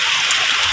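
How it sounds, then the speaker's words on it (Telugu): Heavy rain pours down near a village home where a tarp over the cooking stove has torn, making a dense, constant hiss of falling drops with no voices. "అక్కడికి చూడండి వర్షం ఎలా వస్తుందో"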